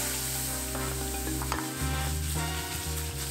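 In a hot pan, food fries with a steady bright sizzle and crackle, broken by a few stirring scrapes and a brief pause, close and continuous with no talk.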